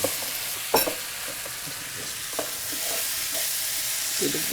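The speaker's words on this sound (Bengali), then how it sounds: "আমরা হালকা দুই তিন মিনিট একটু ভাজা ভাজা করব" Soaked rice frying in a pot for Egyptian koshari, a steady close sizzle with a few scraping stirs of a spoon against the pot.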